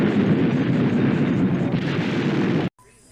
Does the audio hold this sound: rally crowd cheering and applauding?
no